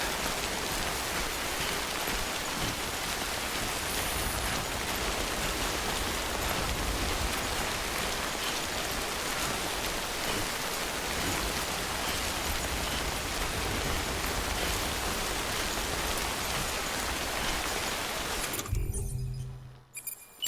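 Steady rain pours in the video game Death Stranding, a dense, loud, continuous hiss lasting nearly the whole stretch before cutting off abruptly near the end.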